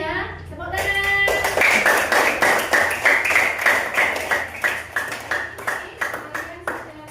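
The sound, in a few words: class clapping hands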